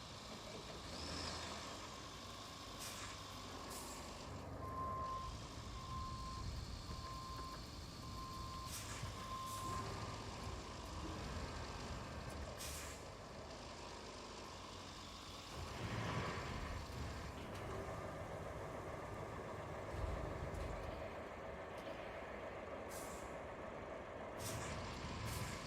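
A truck in the RoadCraft video game strains while stuck, engine rumbling steadily with air brake hisses, a reversing beep sequence and several sharp clunks, all fairly loud and continuous over the full stretch.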